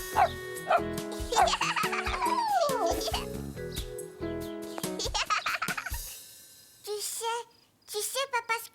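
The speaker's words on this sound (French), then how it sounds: "Caillou passa un merveilleux après-midi à jouer avec le petit chien." A small cartoon dog barks playfully in short high yips over bright orchestral music with melodic swoops, then the music stops and a few separate barks ring out nearly alone.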